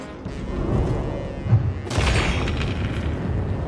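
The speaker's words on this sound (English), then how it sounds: "That explosion pushes you far away." A final boss explosion in a video game gives a loud boom with a heavy low thump near the middle, then a broad rushing burst that keeps the sound dense and roaring to the end.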